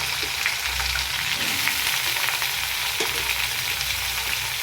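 Two onions frying in a pan, a close, continuous hiss of sizzling oil with faint crackles and a low rumble underneath.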